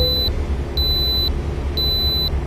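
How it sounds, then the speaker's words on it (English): Inside the American Truck Simulator video game, a high electronic beep sounds three times in an evenly spaced pattern over the low, steady hum of the truck engine. "What is the beeping? Why is that necessary? That's got to be new on this update."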